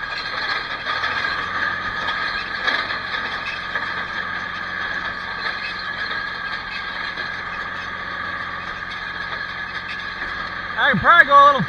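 Steady mechanical drone of a John Deere 24T hay baler run by a John Deere 2040 tractor during dry first-cutting haying, with engine hum and rattling mechanism throughout and a louder creaking burst near the end.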